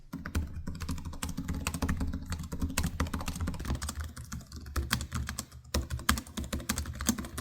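Rapid, steady typing on an Asus Zephyrus G14 gaming laptop keyboard, a dense run of close, soft key clicks with brief pauses, over a low background hum.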